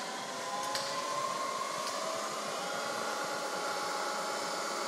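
A Bridgeport EZ Trak milling machine with a quick-switch spindle runs at around 3,500 RPM, giving a quiet, steady whir with faint airy hiss and a couple of brief ticks, and no talking.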